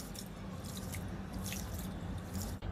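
Rice being washed by hand in water, two or three rinses: soft wet squishing and sloshing with light drips, close and quiet.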